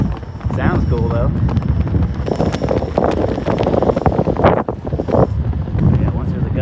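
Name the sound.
gusty wind blowing into the microphone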